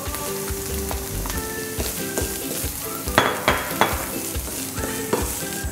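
Green beans and pine nuts sizzle in a pan, giving a moderate continuous frying hiss with soft stirring clatters and a few louder bursts partway through, with no talk.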